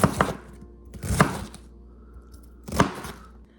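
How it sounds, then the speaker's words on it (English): A knife chops cabbage for sauerkraut, giving three sharp, close chopping bursts spaced about a second apart with quiet pauses between them and no talking. "When all done chopping up,"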